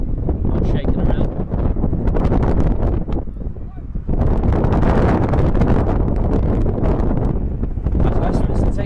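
Strong wind buffets the microphone at an outdoor women's soccer match, loud blustery rumbling and flapping gusts that nearly swamp everything, easing briefly before surging back.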